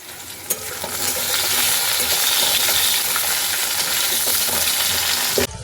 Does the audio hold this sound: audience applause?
no